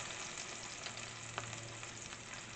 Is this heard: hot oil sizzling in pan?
yes